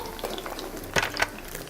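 Snow crab doused with rice wine goes into a pan with scallion-infused oil for a stir-fried noodle dish, giving a soft, steady sizzle and frying crackle with a few brief stirring clatters.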